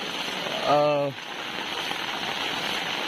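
Continuous heavy monsoon rain pours over flooded paddy fields in Kharsai, Konkan, an unbroken dense hiss with a brief voice near the start.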